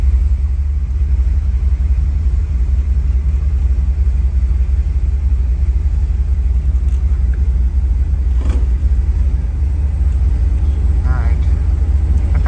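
A 1979 Ford Bronco pulls slowly into a paint booth, its engine producing a loud, close, continuous low rumble that holds steady throughout.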